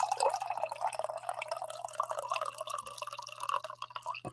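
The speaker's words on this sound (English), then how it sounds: "And I got to give you guys a coffee pour." Coffee trickles and drips steadily into a cup at close range, with no talking over it.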